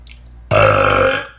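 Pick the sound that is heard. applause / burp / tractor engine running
burp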